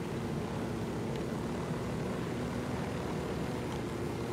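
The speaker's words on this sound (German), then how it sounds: "Das ist jetzt wieder mit den einen Heli" A helicopter in the video game Ghost Recon Wildlands holds a continuous broadband engine and rotor drone, steady and fairly close throughout with no talking.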